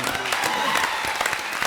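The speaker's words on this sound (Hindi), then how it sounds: "एक बार फिर जोरदार तालियां।" Dense studio audience applause on a comedy television show, steady and close, with some voices mixed in under the clapping.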